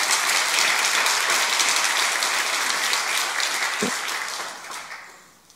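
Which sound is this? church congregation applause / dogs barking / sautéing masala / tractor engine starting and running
church congregation applause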